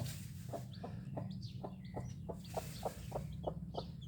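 Chickens cluck softly and steadily at a distance, short repeated notes over a constant low hum of background noise.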